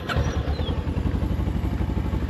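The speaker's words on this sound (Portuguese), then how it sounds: "E vamos encerrar ligando a moto" A 2012 Kawasaki Ninja 650R, already warm, starts up and settles into a loud, close, rapid throbbing idle that carries steadily with no talk over it.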